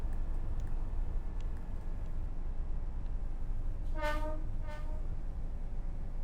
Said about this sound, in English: I do really like that horn.